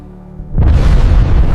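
A missile interception explosion sound effect, a sudden deep boom erupting after a brief low hum and sustaining as a loud, rumbling blast.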